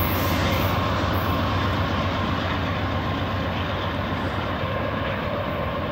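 A long freight train with a DPU locomotive on the rear rumbles past at close range, a steady loud roar of wheels and cars with no pause.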